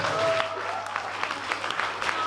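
A concert audience applauds as a performer takes the stage, a steady, dense wash of many hands clapping that stays fairly loud and continuous, with a faint voice briefly underneath.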